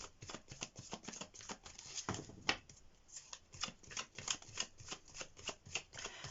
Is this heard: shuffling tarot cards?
yes